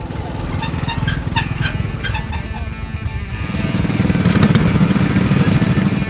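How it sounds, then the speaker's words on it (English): Race car engines drone and buzz together during a heat on a dirt circle track, a rough continuous mechanical roar that swells louder toward the end, with no speech. "John, Kyle, Jason, and Peyton are racing in heat number one."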